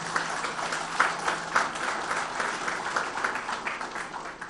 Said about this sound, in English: Let's give Mr. Shivakumar a very, very warm round of applause for this.